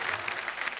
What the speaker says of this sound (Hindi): आपने मेरे सम्मान में इतनी जोरदार ताली बजाई